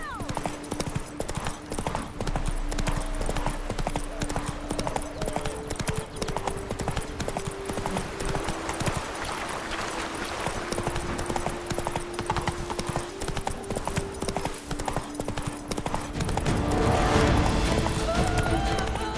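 Roach, a horse in The Witcher 3: Wild Hunt – Blood and Wine, gallops with steady, loud hoofbeats across the whole stretch, over a game music score, building to a fuller surge near the end.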